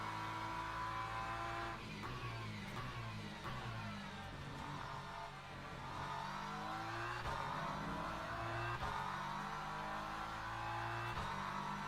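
Hypercar race cars roar around a circuit in a racing video game, with layered engine notes rising and falling continuously as cars pass close by, loud and without any talk.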